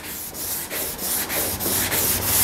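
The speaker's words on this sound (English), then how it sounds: "we're just sanding it down" Polyester primer filler on the fender of a 1950 Chevy truck being block-sanded by hand, a steady rasping rub in regular back-and-forth strokes about three per second, close and fairly loud with no talking.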